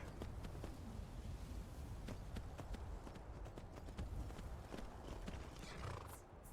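Horse hooves clip-clop steadily in Skyrim, a rapid, even rhythm of close, loud hoofbeats with a brief whinny-like cry near the end, no voices over it.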